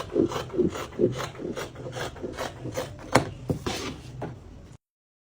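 Scissors cut fabric for a deep V-neck bubu kaftan in a run of about a dozen close, rhythmic snipping and rasping strokes, then stop.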